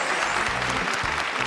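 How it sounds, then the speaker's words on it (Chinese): Studio audience on a Chinese TV talk show applauds guest Zhang Tielin, a dense steady wash of clapping filling the whole moment at even loudness. "来，掌声送给张铁林先生，谢谢。"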